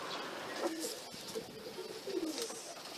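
Soft, low cooing from pigeons repeats a few times amid faint rustling and distant background noise as birds come to a feeder.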